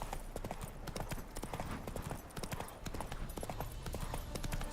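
Hooves of Roach, a horse in The Witcher 3: Hearts of Stone, clip-clop in a quick, steady, close rhythm of sharp knocks over a constant low background hum.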